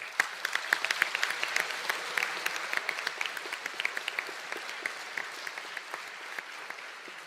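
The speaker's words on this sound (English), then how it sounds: "I think that resounds one more round of applause" Sustained applause fills a graduation conferring ceremony in Donegal: a large audience claps steadily for about seven seconds with dense, even clapping and no speech.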